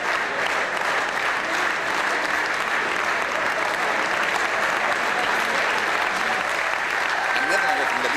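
Diplomats applauding the adoption of the Rome Statute establishing the International Criminal Court, a dense, sustained round of clapping from a large hall that holds steady throughout without pause.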